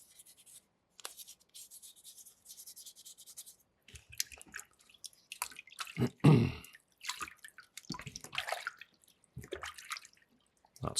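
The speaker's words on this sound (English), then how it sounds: "give it a really good rinse, make sure there's none of this dusty water on there" A soapstone skull carving is rinsed in a bin of dusty water, giving irregular splashes, drips and rubbing sounds close by, with a louder slosh near the middle and no talking.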